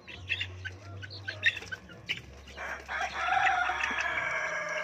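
Roosters crow over scattered clucking and chirping hens in a coop, with a steady low hum beneath; a longer, louder crow swells near the end.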